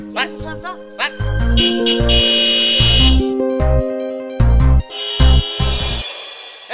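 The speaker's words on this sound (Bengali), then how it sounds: "এত জোরে জোরে হর্ন বাজাচ্ছি" A car horn honks loudly in a rapid series of short and longer blasts, irregular and insistent, close by.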